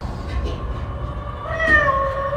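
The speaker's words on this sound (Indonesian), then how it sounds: "di mana Ellie yang mendengar kucing dari ventilasi, segera menyusup ke situ." A cat meows from inside a vent in the horror film Evil, a drawn-out plaintive cry rising over a low, rumbling background in the second half.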